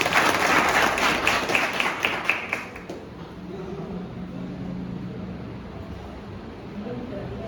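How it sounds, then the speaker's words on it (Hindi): Audience applause at a welcome ceremony for a JCB operator, a burst of dense clapping that fades after about three seconds into room noise and low murmur. "तालियां एक बार जोरदार।"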